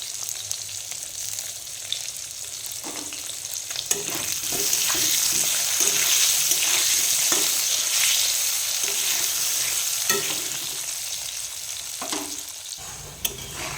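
Potato pieces frying in oil with salt and turmeric give a steady, close sizzle throughout, broken by repeated spatula scrapes and knocks as they are stirred in the pan.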